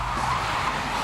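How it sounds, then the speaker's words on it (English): A car skids during stunt filming on London streets for a police drama, a loud continuous tire squeal with engine noise, brief and close, with no talk over it. "I think we're skidding a car right now."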